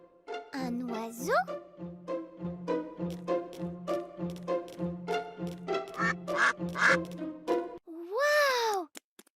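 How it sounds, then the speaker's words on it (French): Cartoon ducks quack in a Peppa Pig video game, a loud run of rhythmic, evenly spaced quacks over several seconds, ending in a rising squawk-like call. "Des canards!"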